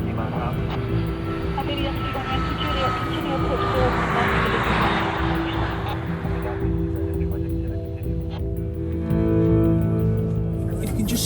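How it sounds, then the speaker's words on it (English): A fixed-wing aircraft approaching to land at Heathrow, a steady distant engine drone with broadband rushing that swells gradually, heard continuously from a runway under a low rumble of nearby activity. "That is an aircraft coming towards us."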